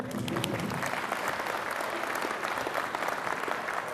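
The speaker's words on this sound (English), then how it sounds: "Round of applause." An indoor audience at a sailing regatta gathering in Cowes, Isle of Wight, gives a steady, moderately loud round of applause lasting several seconds, with no speech over it.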